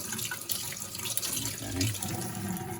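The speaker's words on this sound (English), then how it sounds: "You always want to run it for a while too, because by shutting off the water, it shocks the pipes a little bit" A newly installed Kohler Avi kitchen faucet runs into the sink with a steady, moderately quiet rush and splatter that continues unbroken from start to finish.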